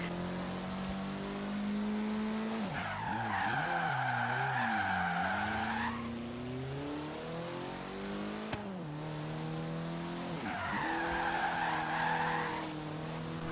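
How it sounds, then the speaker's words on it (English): A Ford Focus RS Horizon Edition drifting in Forza Horizon 3, its engine revving and shifting while two long screeching tire squeals rise and fade, loud and close. "So we're going to take this out for a spin and see what it can drift like."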